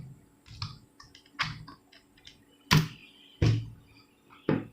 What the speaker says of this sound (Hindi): तो अब मैं टाइप करने जा रहा हूँ।